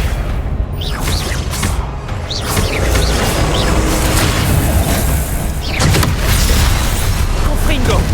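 Fire-spell blasts boom repeatedly during spell combat in the video game Hogwarts Legacy, a dense, continuous layer of bursts, whooshes and rumble that stays loud throughout with no clear pauses.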